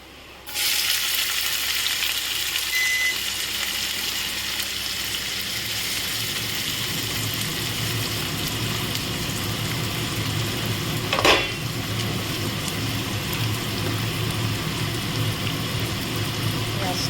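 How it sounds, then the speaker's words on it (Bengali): Chopped onion fries loudly in hot oil with bay leaf, cardamom and cinnamon for chicken do pyaza, a dense steady sizzle throughout with one brief clatter near the middle. "পেঁয়াজটা একটু ভেজে তারপরে আমি এতে আদা দু তিন মিনিট আমি এটাকে একটু হালকা ভেজে নিলাম"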